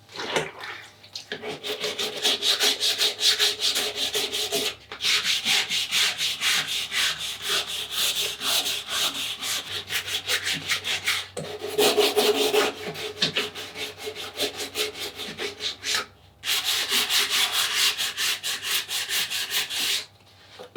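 A surfboard fin is sanded by hand with 180-grit sandpaper, giving long, rhythmic, close scratchy rubbing strokes. Two brief pauses break the strokes, and no one speaks over them.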